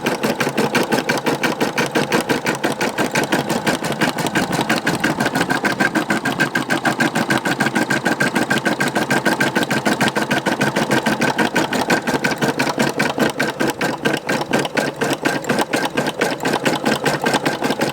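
A Brother embroidery machine stitches red thread onto a beard gang patch with a rapid, steady mechanical chatter. The sound is close and constant throughout, with no talking.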